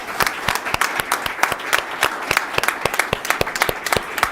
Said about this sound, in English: if you could just join me in giving them a round of applause